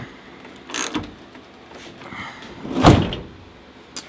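Sliding side door on a camper van being closed, with a few rattling slides and knocks before a solid latching thud near the end, close and fairly loud.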